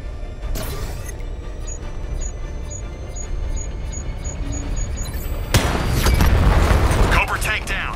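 A Cobra tank in Batman Arkham Knight is destroyed, a heavy boom bursting out after a few seconds of steady engine hum with faint beeps, then a loud crackling explosion rumbling under voices.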